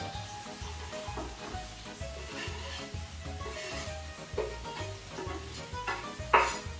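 Grated carrot sizzling with onion in a pan for a lentil bolognese, a soft continuous fry with occasional stirring clinks and a brief louder scrape near the end, music beating faintly underneath.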